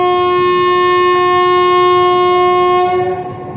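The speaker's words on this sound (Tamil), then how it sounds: "ஹார்ன் அடிச்சிட்டாரு, வண்டி மூவ் ஆகிடுச்சு" A long passenger express train on the New Delhi to Chennai route sounds a loud, sustained multi-tone horn close by for about three seconds before it fades.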